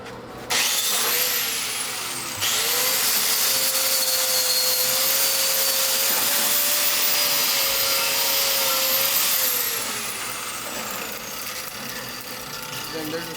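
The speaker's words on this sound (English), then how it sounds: "You go with the wire wheel." A wire wheel on a power tool whirs loudly and continuously over a 7018 weld, rising in pitch as it spins up and holding a steady high whine.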